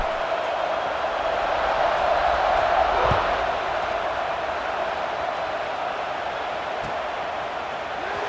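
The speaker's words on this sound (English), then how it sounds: "this crowd is buzzing after that last score" Football stadium crowd keeps up a steady, broad murmur after a score, a dense even roar holding at moderate level throughout with no single voice standing out.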